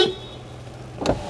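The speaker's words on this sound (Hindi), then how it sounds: "एक बार मैं हॉर्न बजा के भी दिखा देता हूँ" A Renault Kiger RXT Optional compact SUV sounds a single short horn blast near the end, heard close up inside the car after a second of quiet cabin hum.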